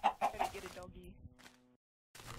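Three quick Minecraft chicken clucks at the start, clear and close, followed by people talking and a brief silence.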